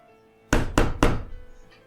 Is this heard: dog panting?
no